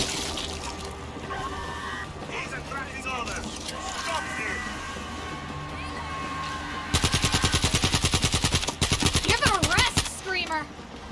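Rapid automatic AK rifle fire in the World War Z Aftermath zombie shooter, Rome level, erupting after a stretch of game ambience and shouting voices, with two long loud bursts of evenly spaced shots near the listener.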